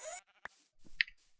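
Sheep bleating inside an RPG video game quest where a lone sheep must be protected from wolves; a short, clear bleat stands out around the middle, with faint game ambience and a soft click before it.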